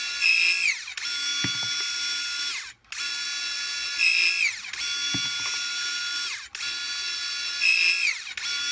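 A battery-powered 18V ratcheting PVC pipe cutter cuts an angled pipe, giving steady motor whine in repeated cycles with brief dips and faint clicks between passes, with no talking.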